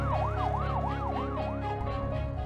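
Ambulance siren wailing in a steady rising-and-falling sweep, loud and close, carrying a patient to Quezon Province, with a low road rumble underneath and no talk.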